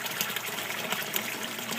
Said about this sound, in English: The sound there is the sound of the water being drained off the bed right now.